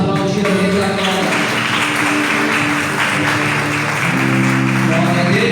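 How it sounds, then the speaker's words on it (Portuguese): A church congregation at a Sunday evening service claps steadily together for several seconds, the applause running under sustained music and singing. "Vamos aplaudir a Deus agora."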